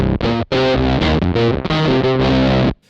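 Guitar played through a Gamechanger Audio Plasma distortion pedal gives a harsh, broken, degraded fuzzy tone, with loud chords and notes in quick succession, a brief gap near the start and an abrupt cutoff at the end.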